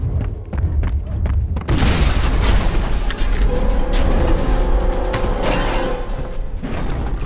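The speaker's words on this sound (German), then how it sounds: "Wir nehmen die Granaten." Grenade explosions in the shooter game F.E.A.R.: a heavy boom erupts after a couple of seconds and is followed by a rumbling, crackling aftermath and scattered debris, loud and near.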